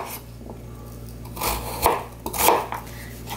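A knife chops carrot on a cutting board, giving a few distinct close knocks against the board over a quiet background, with no speech.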